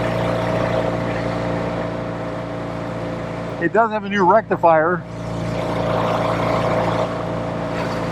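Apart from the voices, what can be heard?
1964 Triumph Thunderbird motorcycle engine running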